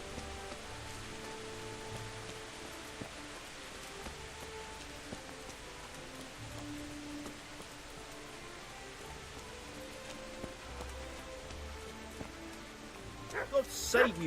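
Steady rain falling in the medieval video game Kingdom Come: Deliverance, a soft continuous hiss under quiet game ambience, with a brief louder clatter near the end.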